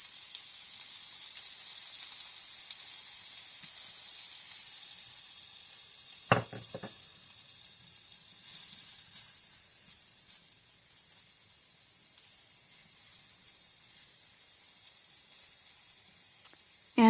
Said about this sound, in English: And now the pan's getting hot, so I can get that turned down and get the sausage